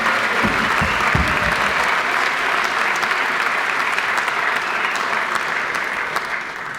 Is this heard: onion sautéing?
no